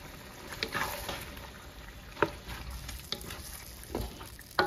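Chicken caldereta sizzles and fries in a pan after banana ketchup goes in, with close stirring scrapes and spatula knocks breaking through a steady crackle.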